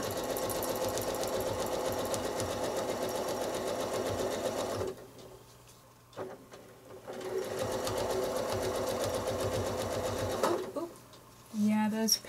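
A sewing machine travel-stitches a quilt block in long, steady, close runs of rapid clatter, stopping briefly in the middle and again near the end.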